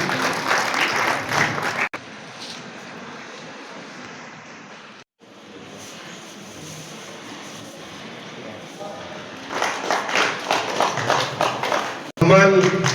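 Children at a coaching seminar in Wazirpur applaud the guests being honoured, a dense roar of clapping that rises again near the end, with a voice on a loudspeaker talking over parts of it.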